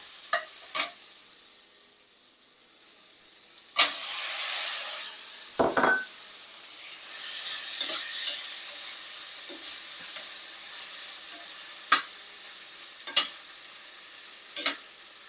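Vegetables being added to softened tomato in a pan for idli sambar, with a soft sizzle and a few sharp spoon knocks and stirring scrapes against the metal, fairly close and otherwise quiet.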